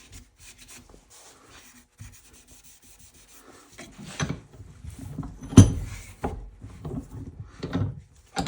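A cloth soaked in denatured alcohol rubs excess epoxy off a wood finish after a crack repair, faint soft wiping at first and then louder, irregular scrubbing strokes with a sharp knock partway through, with no voices.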